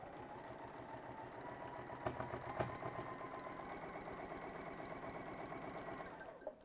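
A sewing machine runs a quilt block seam, a steady close whirring hum that holds evenly for several seconds with a couple of faint clicks before it stops.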